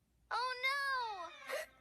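A cartoon character gives a high, voiced hiccup-like squeal that bends up and down, then ends with a short sharp burst, heard alone against near silence.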